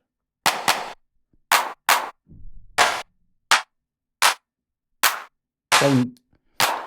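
A crisp clap one-shot sample from the SITALA 16-pad drum sampler app fires repeatedly, short dry hits spaced unevenly with silence between, alone and fairly loud.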